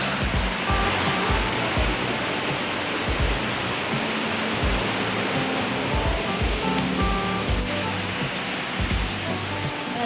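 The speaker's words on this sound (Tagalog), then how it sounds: "Lapas ang tubig o." Water rushes steadily at Kadoorie Farm and Botanic Garden in Hong Kong, a loud, continuous splashing flow like a small waterfall, heard alone without talk.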